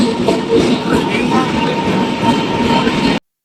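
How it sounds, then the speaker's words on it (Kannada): Train pulling into the station on the way to Mantralaya, a loud, close, continuous rumble of wheels and carriages with a faint steady tone, a voice over it, then abrupt silence. "ನಮ್ಮ ಟ್ರೈನ್ ಬಂತು."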